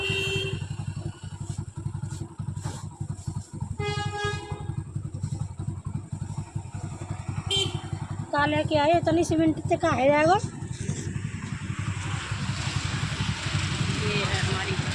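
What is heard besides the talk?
motorcycle riding past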